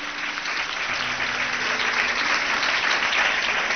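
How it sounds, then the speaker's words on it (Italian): Congregation applauding inside a church during a presentation and baptism service, a dense, steady wash of clapping sustained evenly throughout, moderately close with no voices rising above it. "dedico questo applauso a Gesù"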